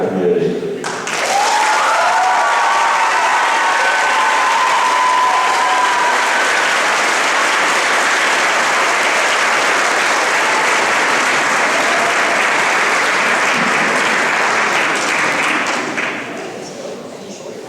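Sustained audience applause at a high school spring concert, a dense, loud wall of clapping that starts abruptly, holds steady for many seconds and then tapers off toward the end.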